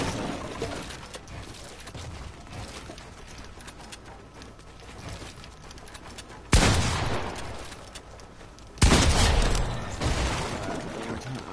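Fortnite practice-mode gunfire: a steady run of game shots and ambient rumble, with two louder, sharper bursts standing out near the end.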